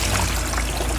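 Water is poured over a car headlight during cleaning for restoration, a continuous splashing trickle that runs steadily and fairly loud from start to end.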